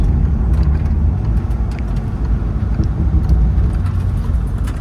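Steady low rumble of a Morgan Supersport on the move, engine and road noise droning continuously at close range with light ticks and rattles, no voices.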